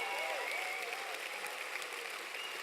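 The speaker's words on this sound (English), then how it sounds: "And give yourself the bigger round of applause." An audience at a leadership event applauds in a dense, sustained roar of clapping that holds steady throughout, with a faint voice or tone running beneath it.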